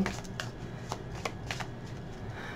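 A tarot deck being handled as a card is drawn, producing a quick series of crisp papery snaps and riffling flicks at close range over a soft background hum.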